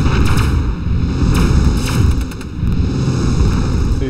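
Cannon fire booms in the video game The Cursed, with repeated loud, heavy blasts in close succession over dense battle noise.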